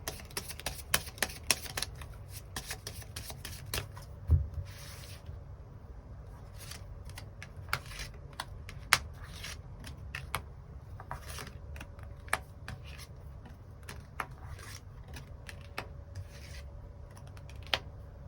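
Tarot cards handled at a table, with quiet shuffling rubs and a string of sharp, irregular clicks and snaps of cards being drawn and laid down, close and fairly faint.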